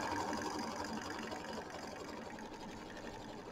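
An embroidery machine stitches felt down onto stabilizer, a steady rapid mechanical whirring and needle chatter running continuously at close range.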